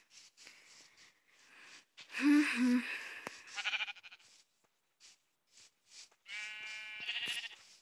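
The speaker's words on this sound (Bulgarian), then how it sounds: "Ето още последната овца, която ще ми трябва." Sheep bleat several times, some drawn-out and wavering, with short pauses and softer shuffling sounds between the calls.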